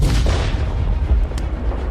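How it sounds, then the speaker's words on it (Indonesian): A sound effect of a white tiger bursting apart in an explosion in an animated fantasy cultivation story, a loud, dense, rumbling blast that fills the whole moment with heavy low booming and no voices. "tiba-tiba pada saat ini, harimau putih ini meledak menjadi berkeping-keping"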